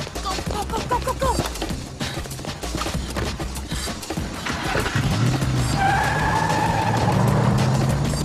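A Gremlin car skids with loud squealing tires that rise into a sustained screech in the second half, over engine noise and scattered impacts, close and intense.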